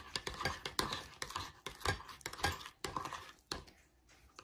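Metal spoon stirring boondi raita, cumin powder already added, in a bowl: a quick run of close, sharp clinks and scrapes against the bowl in an uneven rhythm, easing off near the end.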